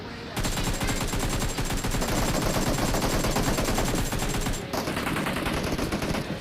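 Sustained rapid AKM automatic gunfire in a battle royale video game rattles in a dense, loud burst, briefly pausing near the end before resuming.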